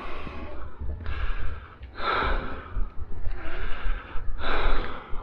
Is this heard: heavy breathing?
yes